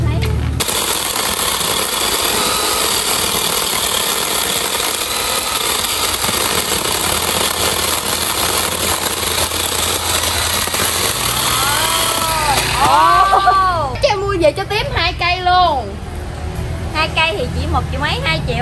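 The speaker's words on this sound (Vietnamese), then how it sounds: "Cây này bữa chị cưa hết phút và giờ em cưa cho nó đứt luôn đi." A petrol chainsaw runs loud and steady, cutting through a wooden log before revving up and down in bursts near the end; a person talks over the engine.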